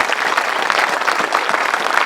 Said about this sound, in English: Big round of applause for Alf.